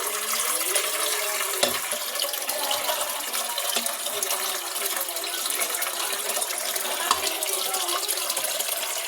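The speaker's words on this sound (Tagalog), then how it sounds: "lalagyan natin siya ng tubig." Steady rush of running water pouring into a container, continuous and fairly loud throughout with faint clinks of the vessel.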